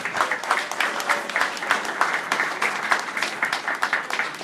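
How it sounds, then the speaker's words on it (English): An audience at an athletic hall of fame induction ceremony claps for the alumni association, a lively round of many hands with uneven bursts rising and falling throughout. "they deserve a big round of applause as well."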